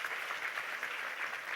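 A crowd applauds at a corporate governance awards ceremony, steady distant clapping that sounds soft and continuous throughout.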